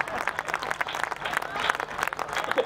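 Audience applause at a political speech in Hindi, a brisk burst of many hands clapping close and loud, with uneven rhythm and a few shouts mixed in.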